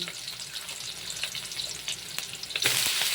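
Chicken frying in a pan for adobong manok, a steady close sizzle that swells louder toward the end, with light stirring clatter.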